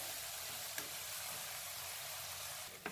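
Tomatoes softened in a hot pan sizzle and fry steadily as potatoes go in, a continuous bright hiss with a couple of faint clinks, close and without talk.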